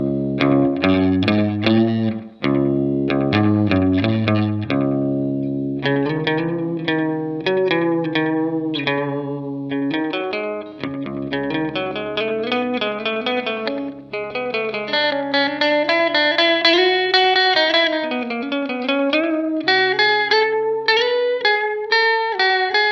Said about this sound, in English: a very faint kind of reverb happening because of that slight delay